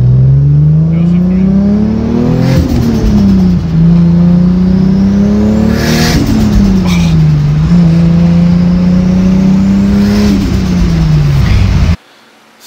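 A loud turbocharged race car engine revs repeatedly up and down, its pitch rising and falling in waves, with bursts of blow-off valve flutter between revs, close and continuous before cutting off abruptly near the end.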